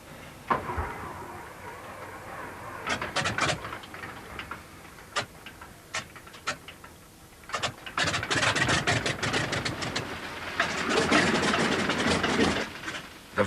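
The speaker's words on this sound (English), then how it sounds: "Ready to start, center engine." The center engine of a Ford Trimotor airplane is started, with uneven clicks and sputtering bursts building into rough, pulsing engine noise that grows louder and more continuous toward the end.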